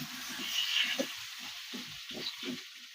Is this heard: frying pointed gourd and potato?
yes